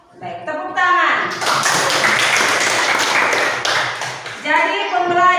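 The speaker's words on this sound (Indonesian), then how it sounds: "Baik, tepuk tangan." A sixth-grade primary school class bursts into a few seconds of dense, lively applause, with the teacher's and pupils' voices just before and after it.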